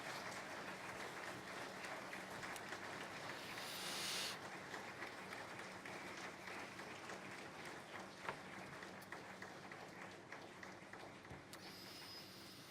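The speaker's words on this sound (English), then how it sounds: "maybe to give a warm applause to this effort and to the panelists here who represented" Warm audience applause for conference panelists, a steady sustained patter of many hands clapping in a hall, fairly distant and even throughout with no talk over it.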